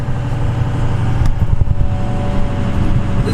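A diesel truck rig driving down the road, its engine giving a loud, steady low drone with continuous road rumble from inside the cab and no talking.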